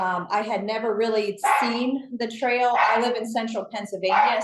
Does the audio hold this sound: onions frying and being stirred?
no